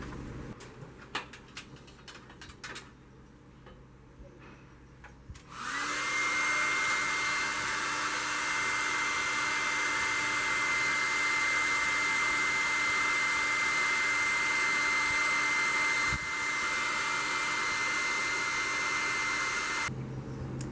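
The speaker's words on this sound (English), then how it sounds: "if you use a hairdryer, it softens up the resist" A hair dryer, used to soften resist on stained glass, switches on after a few seconds of quiet and blows with a loud, steady roar, then cuts off near the end.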